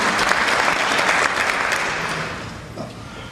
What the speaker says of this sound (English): You give a round of applause.